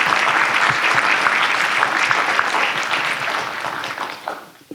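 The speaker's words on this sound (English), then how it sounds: "if you would all give them a round of applause" An audience at a fair housing summit in Winston-Salem claps for the panelists, a dense, steady round of applause that carries on for several seconds before thinning out and tapering away near the end.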